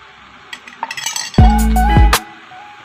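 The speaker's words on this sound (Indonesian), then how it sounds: "Aduk larutan tersebut." A spoon stirs starch solution in a glass, making a few light clinks and taps against the rim followed by a loud, ringing knock, close and alone.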